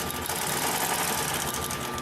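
A Consew 744R-30 industrial sewing machine stitches through thick layers of material, a fast, steady mechanical clatter running continuously and close up.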